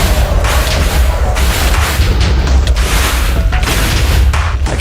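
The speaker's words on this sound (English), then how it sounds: "Okay, they've started exploding." Continuous loud booming explosions in the Minecraft TerraFirmaCraft modpack, a dense, steady barrage of blasts and crashes filling the whole stretch with no pauses.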